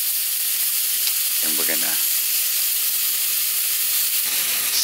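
Turmeric fish sears in a hot pan with a constant, bright sizzle, while someone briefly speaks over the frying.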